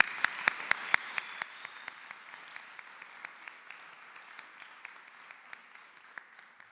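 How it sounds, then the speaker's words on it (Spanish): Applause for missionaries from El Dorado at a centennial celebration in Eldorado, Misiones, a crowd clapping with a few sharp loud claps at first, then thinner scattered clapping fading steadily. "Para ellos pido un aplauso"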